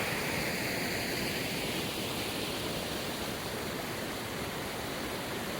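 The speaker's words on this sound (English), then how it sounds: "So we've got this decent sized waterfall here" A decent-sized forest waterfall in the Wyre Forest gives a steady, even rush of falling water that fills the whole stretch without a break.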